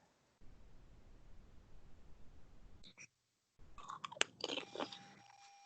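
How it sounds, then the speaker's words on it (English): Close, crisp crunching and chewing on a group call, with short bites and clicks coming in bursts after a quiet stretch of low background hiss. "I can hear chewing"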